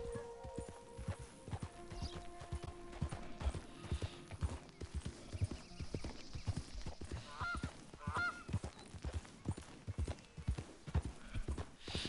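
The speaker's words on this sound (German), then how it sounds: "Und wir reiten mal im Easy Going Mode." Horse hooves clip-clop at a steady riding gait in the Red Dead Redemption 2 video game, a rhythmic series of close thuds with faint ambient bird calls behind.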